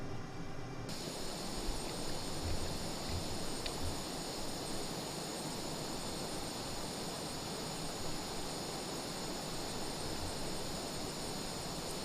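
Steady jet engine afterburner roar from an aircraft in Microsoft Flight Simulator, a continuous broad rushing drone with a faint high whine, holding evenly throughout with no talking.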